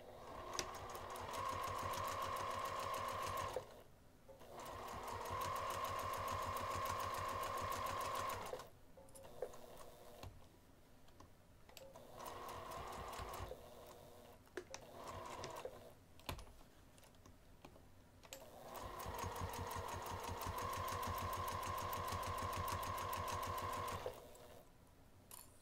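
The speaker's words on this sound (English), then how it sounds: "we're going to sew the entire outer edge of the binding using 1/8 of an inch seam allowance" A sewing machine stitches the outer edge of binding on a craft bag at an eighth-inch seam allowance. Several long bursts of steady, close whirring are separated by pauses and shorter runs, with no voices.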